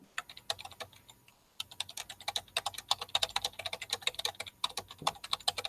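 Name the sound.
fast typing on a keyboard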